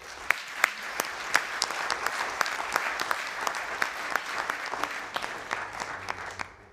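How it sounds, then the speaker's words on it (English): An audience at a medical symposium applauds steadily for a master's student in peripheral vascular disease research, a room full of clapping with distinct nearby claps standing out, continuous for several seconds. "You can applaud him."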